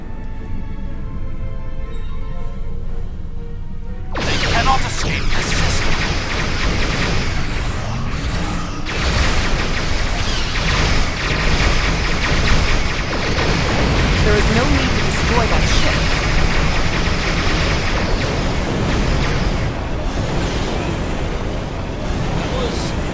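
Starship weapons fire and explosions in the Star Trek Online video game break into a loud, dense barrage after a quiet start and continue as a sustained rumbling din under occasional voices.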